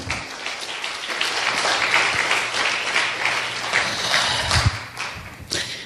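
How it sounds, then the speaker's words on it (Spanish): A church congregation claps steadily in dense, sustained applause, with scattered thumps and louder individual claps near the end. "Dele un aplauso al Señor."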